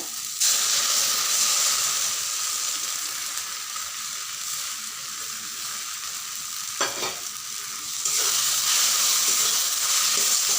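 Rice paste with water spinach frying in a pan over low heat: a continuous bright sizzle and hiss, broken near the end by a brief clatter of stirring before the sizzle swells again.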